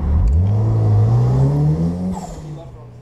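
A car pulls away on a highway, its engine rising in pitch as it accelerates close by, then dropping off as it moves away and fades, leaving quieter road noise.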